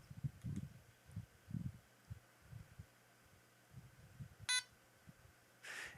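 A single short electronic beep from a LEGO EV3 robot brick sounds sharply, followed moments later by a brief buzzy tone, over faint background noise and soft low thumps.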